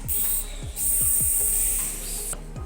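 A young schoolchild imitates a snake's hiss in a classroom, giving a long steady hissing breath over some background rhythmic noise, close and fairly loud, with no clear speech.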